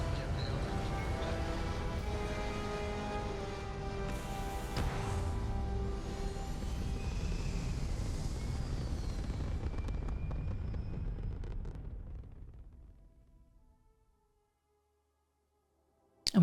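Spaceship lifting off in Starfield, a steady broad roar with low rumble and rising whooshes that holds for about twelve seconds, then fades out into silence.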